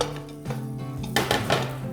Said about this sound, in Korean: 바로 당근을 볶아주겠습니다.